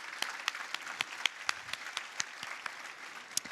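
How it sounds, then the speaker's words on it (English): Audience applause at a business hall of fame awards event, a steady patter of many hands clapping with a few sharp louder claps standing out, continuous for a few seconds. "A round of applause for our volunteers."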